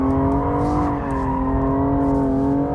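A car drifting at full throttle while catching oversteer, with a loud sustained engine drone holding a steady high pitch, close and continuous with no speech.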